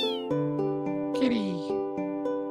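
A chunky cat in the Final Fantasy VIII video game gives a clear, drawn-out meow, close and realistic, over a steady sustained musical tone, with someone talking over it.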